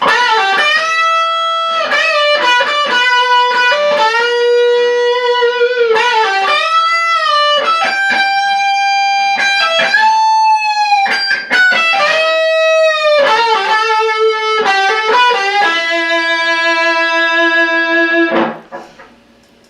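An electric guitar plays the intro solo of a song, melodic with bends and sustained notes, clean and prominent, ending on a long held note that cuts off.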